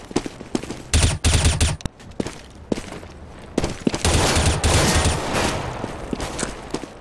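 Gunfire from the shooter game CS:GO, close and loud: several sharp bursts and single shots crack in quick clusters, with rapid rattling runs between them and a busy mix of game noise underneath.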